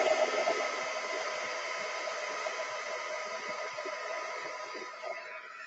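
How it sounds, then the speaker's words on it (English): A heat gun blows a steady, hissing rush of hot air over embossing powder on a craft desk, holding a continuous even roar for the whole stretch with no talking. "I'm just under the desk plugging in my heat gun"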